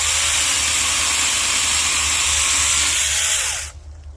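A compact electric grinder-style chainsaw slices through a dead two-inch sumac stem, giving a steady, loud, close high-pitched motor whine that holds for several seconds and then cuts off abruptly.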